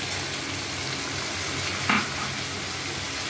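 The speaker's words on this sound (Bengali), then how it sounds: "চইটা দিয়ে দিদি ভালোভাবে নেড়ে দিচ্ছে যাতে চইটা পুরো মাংসের সাথে ভালোভাবে মিশে যায়।" Chicken curry frying in a pan as chui is stirred in, a loud continuous sizzle with a brief louder scrape of the spoon near the middle, close up.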